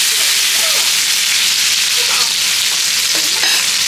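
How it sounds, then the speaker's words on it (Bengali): Tomato frying in hot oil in a pan while making hakka noodles, a loud, continuous sizzle with brief stirring scrapes throughout. "টমেটোটা ভেজে নিয়ে হালকা করে অল্প একটু করে ভাজতে হবে"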